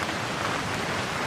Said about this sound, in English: Everything was quiet, except for the sound of rain outside